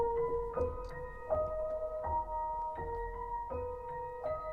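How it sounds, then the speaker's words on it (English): A soft piano plays a simple melody, steady repeated notes changing every beat or so at a low level, with no voices over it. "So we got the piano playing."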